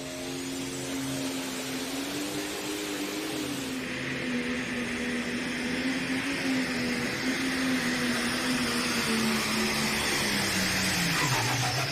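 A pulling tractor at an NTPA Grand National tractor pull in Rockwell, Iowa, runs its engine in a long, loud, sustained roar that shifts slightly in pitch and rises toward the end, heard at some distance.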